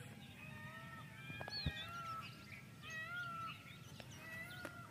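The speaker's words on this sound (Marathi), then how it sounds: "कोंबड्यांचा आवाज" Chickens in a rural yard outside a Covid care centre in Shingnapur give several drawn-out, fairly faint calls in the background, with no one talking.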